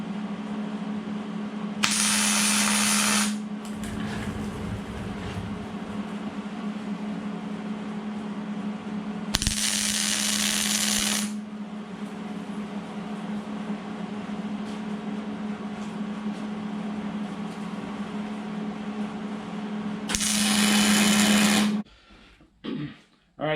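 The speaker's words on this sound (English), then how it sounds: "Then we're going to tack this to the axle tube." Three short bursts of arc welding tack a truss onto a Jeep TJ's Ford 8.8 axle tube, each a loud crackling hiss lasting one to two seconds, separated by long stretches of steady humming background.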